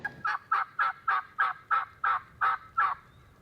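Wild turkey gobblers gobble during an Iowa turkey hunt, a fast train of about nine rattling calls in steady rhythm, fairly close and clear, with no talk over them.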